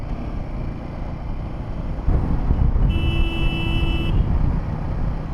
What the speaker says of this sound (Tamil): ஏன் லாங் ஹார்ன் அடிக்கன்னு நினச்சிக்காதீங்க.